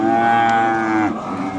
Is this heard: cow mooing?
yes